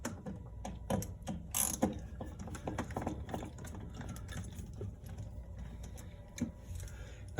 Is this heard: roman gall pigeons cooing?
no